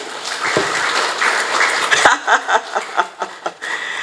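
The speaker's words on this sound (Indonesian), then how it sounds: "Silakanlah ketua UMK tepuk tangan lah" Applause from an audience at a declaration and inauguration ceremony for a party's small-business group in Bekasi, a short burst of clapping with scattered laughter that thins into uneven individual claps toward the end.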